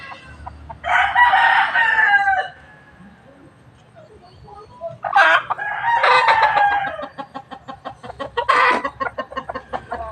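Young gamefowl stags crow in a backyard, with about three loud, close cock-a-doodle-doo calls separated by quieter clucking and rustling.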